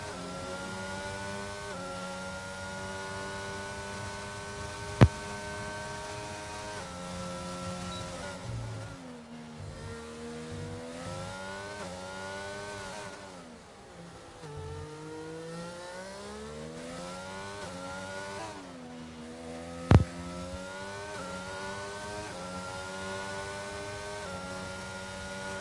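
An F1 race car in a Formula 1 esports game runs a lap of the Singapore circuit, its high engine wail rising through the gears and dipping under braking for corners. It stays steady and fairly loud, with two sharp clicks and no voices.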